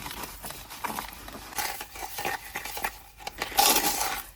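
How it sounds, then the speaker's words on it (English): A gritty texture additive being stirred into epoxy resin in a mixing cup, with close, irregular clinking and scraping strokes throughout and no talk. "It's got quite a gritty texture to it, like feel to it, but it does mix in really well"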